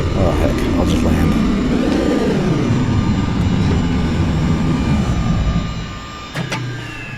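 Rex dropship touching down in a video game: a loud, steady engine roar and whine fills the whole stretch, easing off near the end as a brief thump lands, with talk running over it.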